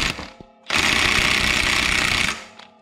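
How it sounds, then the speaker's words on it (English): A power tool whirs in one sustained burst of about two seconds, tightening a CFMOTO CVTech clutch kit, loud and close with a short lead-in and tail-off. "All right, now we're gonna tighten it down."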